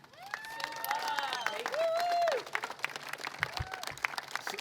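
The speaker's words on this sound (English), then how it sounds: "Please give me a big round of applause for this great state servant, Suva Tai" An audience at a California state government campaign launch event breaks into applause, a dense swell of clapping with a few cheers and whistles that peaks and then fades within seconds.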